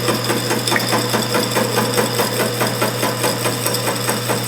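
A milling machine under power table feed cuts a spool valve engine block, a loud, close, rapid rhythmic chatter of the cutter over a steady motor hum that continues without pause.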